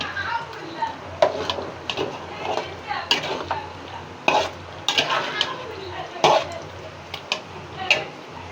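A spoon stirs fried potatoes into beef biryani in a pot, giving irregular scraping clinks against the metal over a low sizzle, close and moderately loud, with brief speech between strokes.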